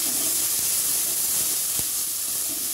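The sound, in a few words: soaked chickpeas added to hot oil, sizzling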